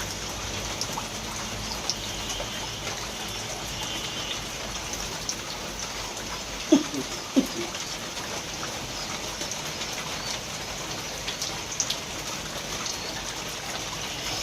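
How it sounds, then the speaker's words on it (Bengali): Water drained from washed polao rice in a home kitchen, a quiet, steady trickle and patter with a few sharper taps near the middle, and no talking. "সুন্দর করে পানিটা ছেঁকে নিতে হবে।"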